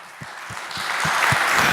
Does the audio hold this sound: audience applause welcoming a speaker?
yes